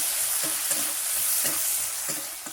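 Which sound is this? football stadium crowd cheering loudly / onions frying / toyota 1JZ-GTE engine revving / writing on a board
onions frying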